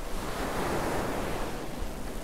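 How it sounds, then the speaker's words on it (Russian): Steady ocean surf in a video game washes continuously across the whole stretch, a broad even roar of waves with no pauses and no voices. "Слушай волны, плоскоголовый."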